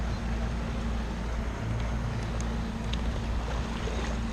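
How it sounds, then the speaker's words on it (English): Bixpy J-1 electric outboard motor running on a kayak, a steady low hum with a constant tonal drone under faint water wash, sustained and even throughout. "It's just the motor."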